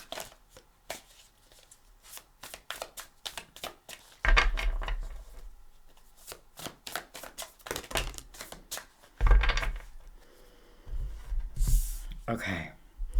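Soft riffling and flicking of tarot cards being shuffled, in several quick bursts with brief pauses, close by, with faint low thumps and rustling.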